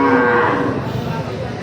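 Cow mooing, one loud, close, drawn-out low bellow that slowly weakens over its length.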